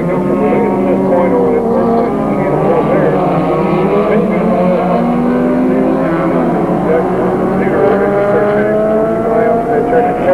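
Race cars lapping the Laguna Seca track in a 1985 race make a loud, continuous engine drone with overlapping rising and falling pitches as several machines pass, with a commentator's voice mixed in.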